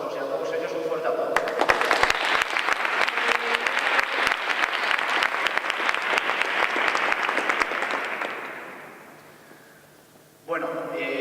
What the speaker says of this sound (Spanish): a todos vosotros y a todos ellos un fuerte aplauso